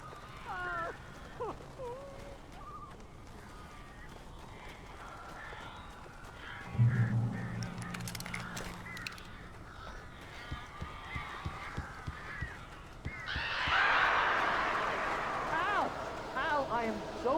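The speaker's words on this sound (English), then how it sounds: "These birds are weird." Crows caw in the video game Alan Wake inside a blocked-up room, with scattered faint calls, thuds and shuffling, and a burst of flapping and cawing toward the end, mixed with voices.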